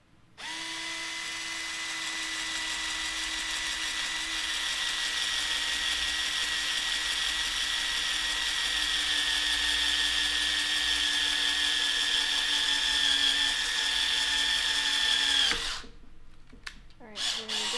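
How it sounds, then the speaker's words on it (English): A power drill whines at a steady high pitch for about fifteen seconds, then stops abruptly, leaving a few clunks and rattles. "and we're just gonna drill here."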